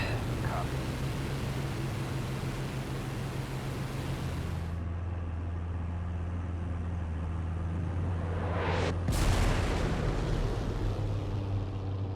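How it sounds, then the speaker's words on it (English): Rockets fired from an aircraft in the IL-2 Sturmovik flight game, a steady engine drone with a sudden whooshing burst and blast near the end, under a pilot's low voice. "There goes some rockets."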